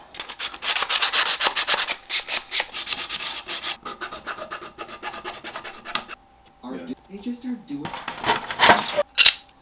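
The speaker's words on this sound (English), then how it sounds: "And we're just gonna sand it off." A plastic lantern part being sanded by hand for a fantasy-style hobbit lantern, with rapid rhythmic rasping strokes that are loud and close, then a pause while someone speaks, before the sanding resumes.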